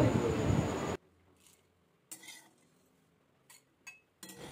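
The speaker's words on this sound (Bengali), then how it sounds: "এটা আমি হামানদিস্তা দিয়ে গুঁড়ো করে নেব।" Fried spices, including a bay leaf, are pounded in a metal mortar and pestle. Several separate sharp metallic clinks and thuds sound close by after a burst of louder noise at the start.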